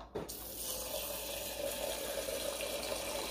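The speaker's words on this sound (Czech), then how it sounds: "Samozřejmě si musíte dát do shakeru ještě water." Water runs from a tap into a drink shaker, a steady hissing stream after a brief clunk at the start, close and continuous with no talking.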